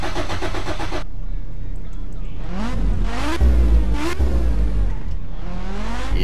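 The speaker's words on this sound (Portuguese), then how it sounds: "Vou mostrar pra vocês aqui o som desse carro aqui" A modded car engine revs up and down in the game My Summer Car, with a loud mechanical roar rising and falling in pitch several times, continuous throughout.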